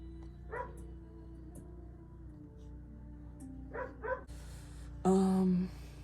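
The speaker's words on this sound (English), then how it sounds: "There's my dog again." A dog barks a few times in the background of a quiet indoor room, with short, faint yips and one louder bark near the end.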